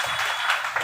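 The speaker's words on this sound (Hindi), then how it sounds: "जोरदार तालियां हो जाएगी हमारी रुक्मणी जी के लिए।" Crowd applause for a woman named Rukmini at a Shrimad Bhagavat Katha religious gathering at a Valmiki temple, steady dense clapping sustained throughout the brief moment.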